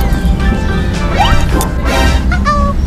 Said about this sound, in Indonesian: Aduh, aku kena granat guys.